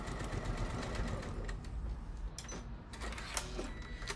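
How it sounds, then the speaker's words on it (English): An Elna Excellence 780 Plus sewing machine stitches a bag seam at a quarter-inch allowance, running in a fast continuous whirring chatter close by, with a brief pause and a few sharp clicks as the stitch reverses. "I'm going to sew, reversing my stitch at the start and at the end."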